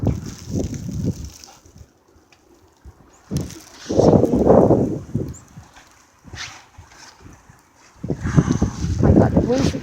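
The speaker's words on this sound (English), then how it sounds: "the winds here are gusting up almost 40 miles per hour" Strong wind gusts of a winter blizzard, Winter Storm Stella, buffet the microphone in loud rumbling bursts that rise and fall over about ten seconds, with quieter lulls between gusts.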